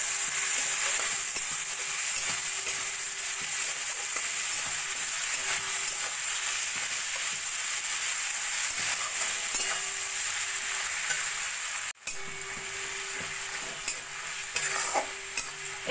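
Spices, grated ginger and tomatoes fry and get stirred in a pan for an egg curry, giving a steady close sizzle with scraping strokes throughout and a brief dip near the end.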